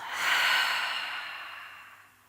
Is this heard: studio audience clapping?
no